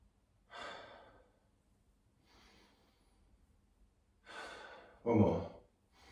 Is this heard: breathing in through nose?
yes